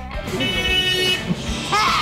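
A vehicle horn hoots at a donkey on a busy trucking road near Beaufort West, a sustained toot over passing traffic rumble, with a voice briefly audible.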